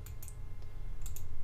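Computer mouse clicks while working in 3D logo animation software: a few sharp, close clicks, two pairs near the start and end, over a low steady background hum.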